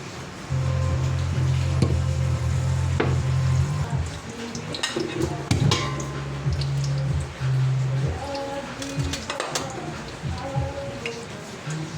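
Steady crackling sizzle of hot cooking oil in a casserole pot, continuous with brief clatters and bumps of cookware, no talking.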